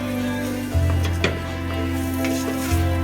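Meat browning in butter in a pot for chili, a steady close sizzle with a low hum underneath and a few light scrapes and clinks of stirring.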